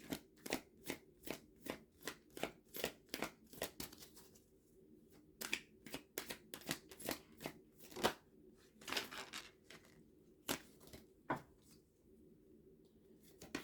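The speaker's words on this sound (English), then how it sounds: "Let's take an oracle card to see what the highlight of your reading is." Oracle cards being shuffled by hand make a quiet, rapid series of crisp riffling flutters, repeated in short bursts with brief pauses between them and no talking.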